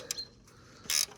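A ratchet wrench works on an exhaust bolt of a KTM 1290 Super Duke RR fitted with a Spark Konix Evo titanium exhaust. Two quick, quiet metallic ratcheting bursts come close up with near silence between them, and nobody speaks.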